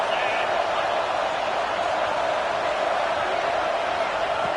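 Stadium crowd noise in a college football video game, a dense, continuous roar with a steady hum that stays even and loud throughout.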